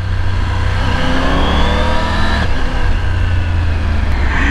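Triumph Tiger 900 adventure motorcycle, a 900cc engine, revving and pulling hard while ridden, a loud continuous close-up drone with rising pitch sweeps throughout.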